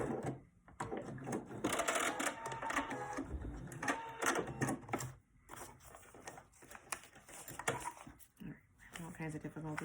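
A sewing machine stitching paper-pieced quilt fabric for a Riley Blake Raindrops pillow, a close rapid mechanical whirr running in bursts with brief stops, while a person talks over it.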